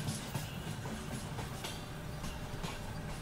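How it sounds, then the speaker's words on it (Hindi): A Borivali–Churchgate slow local train passes through Goregaon station with a steady, loud rumble. Wheels clatter in a rhythmic clickety-clack that runs all the way through, and there is no talk over it. "Borivali church get slow local जो कि गोरेगांव स्टेशन को क्रॉस कर रही है अभी।"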